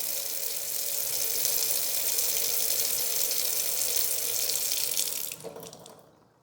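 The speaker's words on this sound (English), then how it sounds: "every time you touch it, voila, the water comes out." Water runs from a Kraus Oletto modern pull-down, single-handle touch kitchen faucet into a sink, a steady close hiss of flowing water that gradually tapers off and stops near the end.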